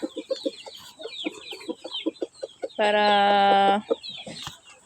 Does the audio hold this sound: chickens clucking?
yes